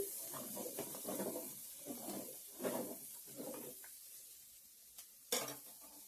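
Potatoes frying in a pan in a home kitchen, with scraping stirs and clinks of a spatula over a soft, steady sizzle, close by and moderately quiet.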